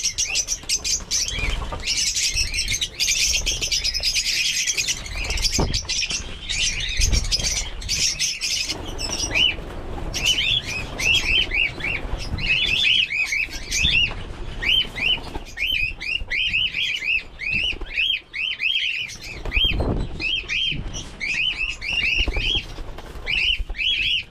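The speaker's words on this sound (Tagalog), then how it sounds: "Napakaingay sa ating mga ibon." Many small birds, including fledgling lovebirds, chirp in dense rapid trills high above, with bursts of wing flapping and rustling close by throughout.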